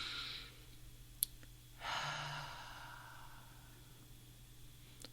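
Deep breathing during a guided relaxation exercise: a soft inhale, then a long, audible sighing exhale, close and quiet with no talking.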